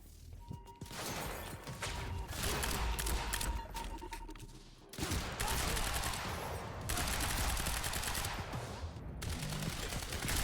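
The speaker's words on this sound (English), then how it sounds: "Oh, I have an assault rifle in my hands." Assault rifle fire in the game Quantum Break rattles in sustained, dense bursts at close range, loud and continuous with brief breaks, against a busy background of combat noise.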